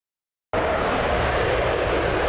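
A fighter jet engine, such as a MiG-29 or F-16, starts abruptly after half a second of silence. It becomes a loud, sustained roar with a broad rushing noise that holds steady to the end.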